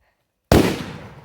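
A firecracker bomb goes off at a São João bonfire: one sharp, loud, close blast bursts out of silence and trails off into a brief rumbling decay.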